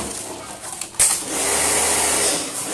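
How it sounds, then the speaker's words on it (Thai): A shellfish spraying machine runs close by with a steady, loud broadband hiss and hum that jumps in at about one second and holds unbroken to the end, with no talk. "เสียงที่มันดังอยู่ตอนนี้คือเสียงเครื่องฉีดหอย"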